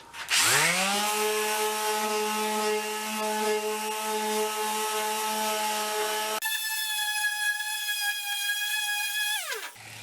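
A power sander fitted with 80-grit paper works the metal body of an old Harmon pellet stove, spinning up to a steady high whine, then shifting to a higher tone before winding down, loud and close with no talking.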